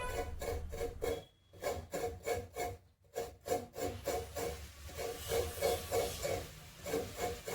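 Fresh coconut scraped on a traditional Kerala iron grater with a sharp zigzag edge in a home kitchen, giving steady rhythmic rasping strokes, close and fairly quiet, with brief pauses between bursts.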